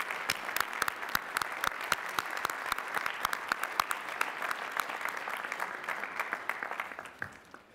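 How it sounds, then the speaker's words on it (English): Commencement audience at a Lehigh University spring graduation applauds master's degree recipients, steady crowded clapping with sharp individual claps standing out, sustained and somewhat distant, fading slightly at the end. "Please recognize the master's degree recipients with our hearty congratulations and applause."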